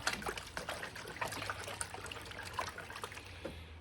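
Water sloshes and splashes in a gold pan while light silty material is worked in fresh water, a close, irregular swishing with small drips and trickles, no talk.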